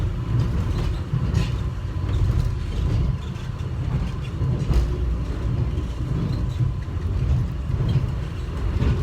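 An airport subway train runs between terminals with a steady, continuous rumble and rattle heard from inside the car.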